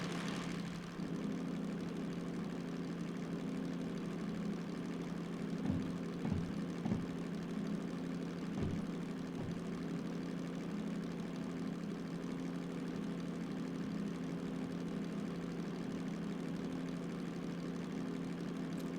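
A train locomotive engine in the video game Derail Valley drones steadily under heavy load with a low, continuous rumble and a few brief thumps partway through, with no talking.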